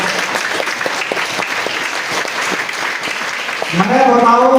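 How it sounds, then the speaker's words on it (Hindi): A meeting audience applauds in honour of Dr. Lee, a dense, steady clatter of many hands held at even loudness throughout, with a voice breaking in over the clapping near the end. "हम चाहेंगे डॉक्टर ली के नाम पे एक बार जबरदस्त ताली बजाएं"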